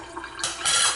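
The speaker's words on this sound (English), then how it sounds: "we're going to drain out the juice" Juice from canned chicken breast drains out in a short splashing pour that swells into a louder gush of liquid after a faint dribble, close and brief.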